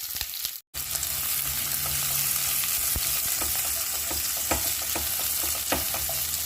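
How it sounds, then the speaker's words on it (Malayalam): Finely chopped garlic and onion frying in hot oil in a pan, a steady close sizzle with scattered stirring clicks and scrapes, briefly cut out near the start, no talking. "ചൂടായ ശേഷം ഇതിലേക്ക് പൊടിയായിട്ട് നറുക്കിയ ഗാർലിക്കും സവാളയും കൂടിയിട്ട്"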